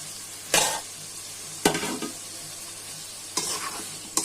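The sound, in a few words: fish curry with tomato and potatoes being sautéed with spices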